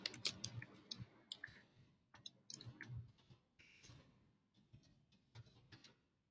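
Fingers tap out short bursts of keystrokes on a computer keyboard, soft close clicks in quick irregular runs with brief pauses between them.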